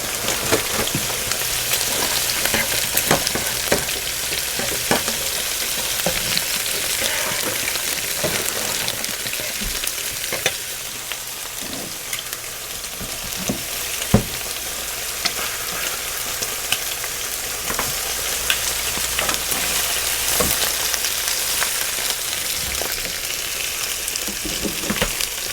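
Food sizzling and frying in a pan over an outdoor open fire, a dense continuous crackle and hiss with scattered sharper pops, close and fairly loud, no voices.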